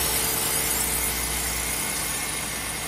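A drill drives a medium Scotch-Brite belt polishing stainless steel, giving a loud, continuous abrasive whir and hiss with a faint tonal hum and no talking.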